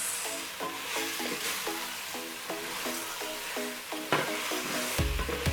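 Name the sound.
stirring chips in masala sauce in a pan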